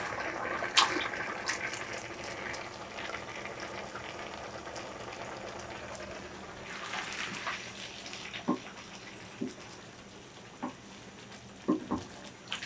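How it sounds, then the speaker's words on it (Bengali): Meat with water poured into a biryani pot, a steady bubbling, watery wash with a few sharp clinks and splashes toward the end, moderately quiet and with no talk. "মাংসটা ঢেলে দিচ্ছি।"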